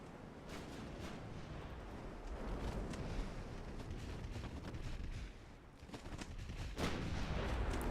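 Naval guns and secondary batteries fire in a simulated warship battle in Ultimate Admiral Dreadnoughts, producing continuous rumbling booms and overlapping blasts.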